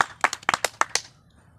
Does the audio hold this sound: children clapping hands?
yes